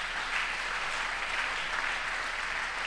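Church congregation at a deliverance seminar applauding together, a dense, steady roar of clapping that holds evenly throughout without a break.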